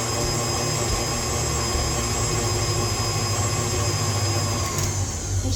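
Electric mixer running steadily at medium speed, beating batter with two added eggs for blondie-style cranberry bliss bars, a loud, even motor whir with a slight tonal hum, close and unbroken throughout.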